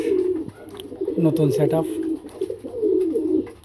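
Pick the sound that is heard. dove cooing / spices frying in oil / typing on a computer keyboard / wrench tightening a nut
dove cooing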